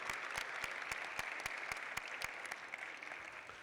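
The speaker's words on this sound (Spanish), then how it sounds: "al cual les pido un fuerte aplauso" Audience at a book presentation applauding the author, a steady close patter of clapping with sharp individual claps standing out and no voices.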